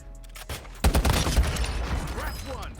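Bursts of gunfire from the mobile shooter Warzone Mobile crack out close and loud after a short pause, then trail off into scattered shots beneath a speaking voice.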